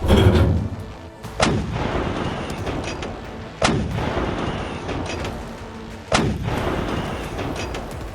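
Artillery bombardment sound effect in a Warhammer 40k battle between Astra Militarum and Necrons: three loud, sharp booming shots about every two to three seconds, each decaying into a sustained rumbling roar, with no talking.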